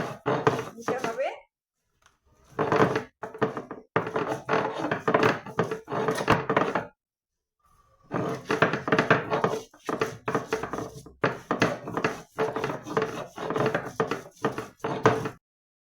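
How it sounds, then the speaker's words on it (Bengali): Prawns being ground by hand on a shil nora stone slab, a heavy stone rolling and thudding in steady repeated strokes, close and loud, with a short pause partway through. "এখন আমি বেটে নিচ্ছি, এইভাবে শিলনোড়া বেটে"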